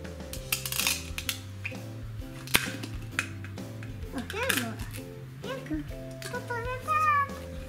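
Plastic toy fruits and vegetables are sliced apart with a toy knife during pretend play, giving small clacks and taps amid a child's and an adult's voices, with music playing underneath.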